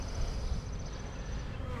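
Buzzing of a honeybee swarm remnant around a secondary hive box set up on a ladder, a steady dense insect drone close by with no voices.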